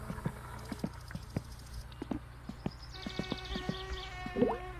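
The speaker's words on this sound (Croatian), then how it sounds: "To je znači kilju počeo da se pravi." Kilju fermenting in the My Summer Car video game gives off faint, regular bubbling plops and clicks over a low steady hum, with no talking.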